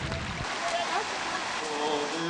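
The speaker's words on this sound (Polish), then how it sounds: "Czysty potok, w którym można się kąpać w upalne dni, tworzy liczne kaskady, bystrza i skałki" A clear mountain stream in the Pieniny near Jaworki rushes over cascades, rapids and rocks in a steady, full wash of water, with a voice speaking over it.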